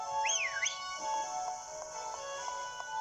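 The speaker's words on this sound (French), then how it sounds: "pourquoi je siffle moi? J'ai pas envie de siffler" A character in the Pokémon Shield video game whistles a short rising-and-falling tune near the start, clear and fairly loud over the game's steady background music, with no talking.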